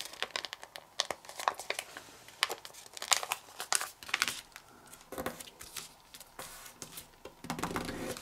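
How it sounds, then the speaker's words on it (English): Sheet of paper being folded and creased into a paper airplane, with repeated crisp crinkles and sharp pressing rustles, close and fairly loud, no talking. "So fold this edge to that crease."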